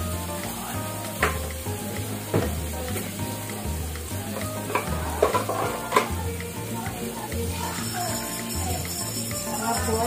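Bangus (milkfish) sizzles and fries steadily in a pan with black beans, with occasional stirring and utensil knocks over a continuous crackling hiss, close and moderately loud.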